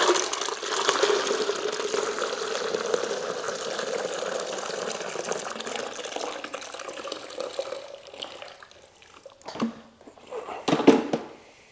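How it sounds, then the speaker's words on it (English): Clean water from a Mytee S300-H heated carpet extractor tank pours and splashes steadily as the tank is tipped, then thins to a few final glugs and trickles. "we're going to dump out the clean water from this side. So we'll just tip this up."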